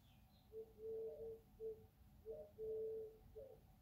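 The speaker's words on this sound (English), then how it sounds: "Sorry, there's an owl outside." An owl hoots outside in the morning, a faint, distant series of soft, low hoots in uneven bursts over quiet background.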